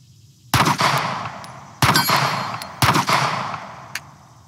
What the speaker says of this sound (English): squeeze off a couple more, and have some fun with it